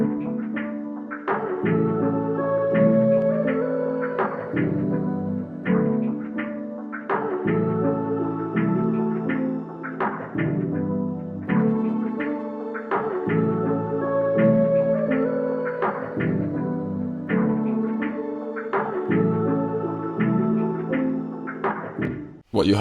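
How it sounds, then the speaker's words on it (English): The OMG Choir sampled instrument, layered with sparkly effects, plays in an RnB sample. Its chords repeat in a looping pattern of soft, sustained tones with clear note changes, steady and fairly loud throughout. "What you heard there was I added this little instrument from Selena, OMG Choir."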